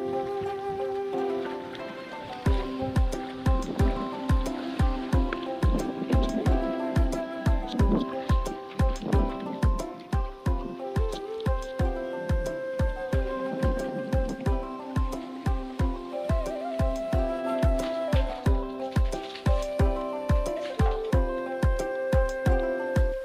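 Water splashes and pours steadily at a village well as freshly harvested mustard greens are rinsed clean, a close, continuous wet sloshing with rhythmic splashing throughout.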